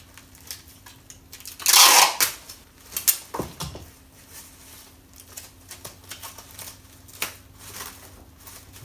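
Packaging paper being folded around a painting for shipping: a loud burst of crinkling and rustling early on, followed by scattered softer crackles and taps, close by with no talking.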